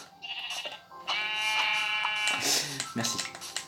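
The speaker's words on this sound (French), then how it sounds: "les moutons sur ce jeu, ils me saoulent" A sheep in a video game lets out a nasal, quavering bleat, close and fairly loud, followed by a shorter second call, with someone talking around it.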